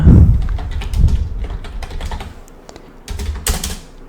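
Close, irregular keystrokes clatter on a computer keyboard in quick bursts while someone types text for the game Dofus; no voices accompany the clicking.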